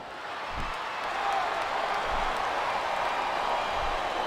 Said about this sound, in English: And the crowd has come alive tonight with a chant directed at the superstars in the ring.